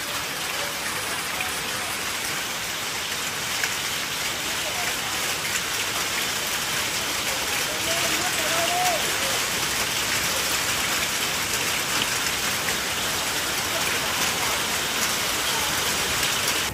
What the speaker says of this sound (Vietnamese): Cứ tưởng là ngớt mưa rồi lại tiếp tục lại mưa tiếp. Mưa cả tiếng rồi.